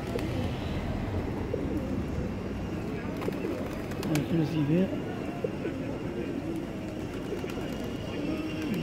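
Pigeons coo and flutter around a town square, a steady close flock murmur with occasional soft calls running beneath a voice talking throughout.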